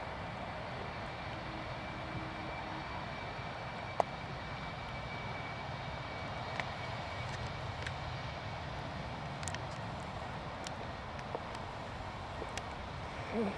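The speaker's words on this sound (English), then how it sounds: "Another Jet 2 Jet 2 summer holidays just coming in." A Jet2 airliner comes in to land at Manchester Airport, its engines a steady, distant broadband roar holding evenly throughout with a few faint clicks on top.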